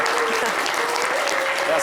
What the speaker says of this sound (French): On applaudit pour les téléspectateurs de Kounfao.